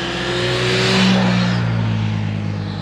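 A motorcycle climbing a popular motorcycle road near Felsberg, its engine droning loud and steady as it rises in pitch and then settles, heard from close by with no voices.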